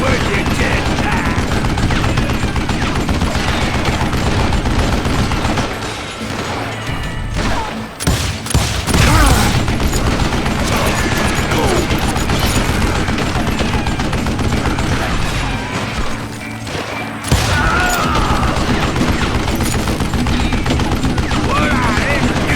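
Gunfire in the Western video game Call of Juarez Gunslinger, dense, loud volleys of shots and impacts running almost nonstop, with brief lulls, and a voice speaking over the action.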